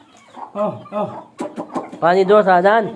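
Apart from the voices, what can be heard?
chickens clucking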